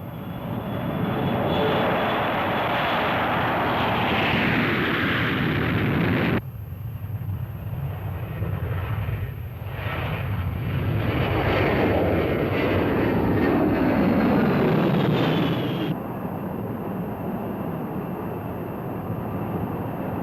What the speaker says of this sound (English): Over the next several hours, the crews are briefed, the mission reviewed, and the aircraft launched.